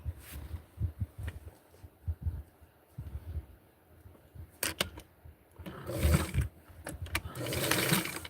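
A sewing machine stitches a small MOD dress for a Francie doll in short pulsing bursts, close and moderately loud, with handling clicks and rustles of fabric between runs.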